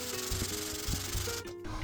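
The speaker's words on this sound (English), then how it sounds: "So I'm just sanding this flat with 120 grit on a mirror to make it perfectly flat again." A warped stamped steel rocker cover rubbed flat on 120 grit sandpaper laid over a mirror, giving close, rhythmic scratchy strokes roughly every half second, steady and fairly quiet with no voices.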